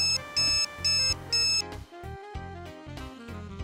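Electronic warning beeps from an Effitek electrostatic dog containment collar, three evenly spaced high tones followed by a run of shorter, shifting beeps, close and clear with no talking.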